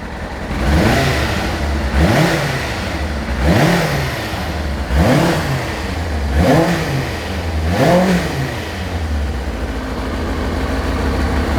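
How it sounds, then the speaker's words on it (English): A 2000 Kawasaki ZX-6R motorcycle engine runs close by after a cold start, idling with repeated rhythmic blips of revving that rise and fall roughly every one and a half seconds. "This is a cold start up on this ZX-6R."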